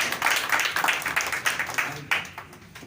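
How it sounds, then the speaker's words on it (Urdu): A crowd at a special meeting in Hyderabad claps together, giving a few seconds of dense, moderately loud applause that thins out toward the end. "ایک مرتبہ شریف بھائی کے لیے تالیاں ہونی چاہیے"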